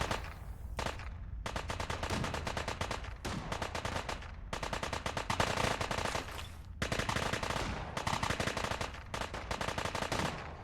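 Sustained turret machine-gun fire in Fallout 4: long rapid bursts broken by brief pauses, loud and close, with no talking.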